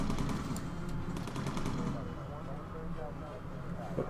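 Machine guns fire in rapid bursts from gunners aboard a bomber in the video game Bomber Crew, a dense crackling barrage over droning engine noise, heaviest in the first two seconds then easing into a steady rumble.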